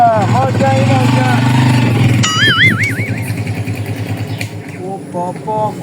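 A motorcycle engine hums steadily in the background, largely buried under loud talking and a whistle-like tone, with the engine rumble becoming more noticeable near the end.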